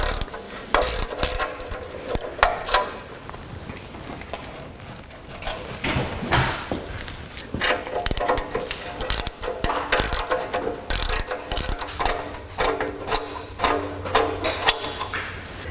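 Ratchet wrench loosening exhaust nuts under a 2006 Toyota Camry, rapid clicking pawl bursts repeating in uneven runs with metallic clanks and some shuffling between them, close and fairly loud.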